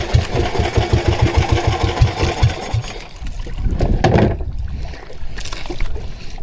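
A fishing boat's engine chugs in a fast, steady rhythm up close, then its tone shifts and trails off amid water and hull noise.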